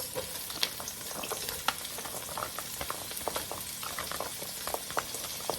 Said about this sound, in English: we're gonna put now the carrots.